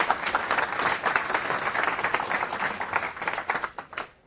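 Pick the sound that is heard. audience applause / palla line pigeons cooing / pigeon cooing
audience applause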